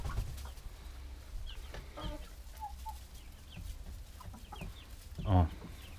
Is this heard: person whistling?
no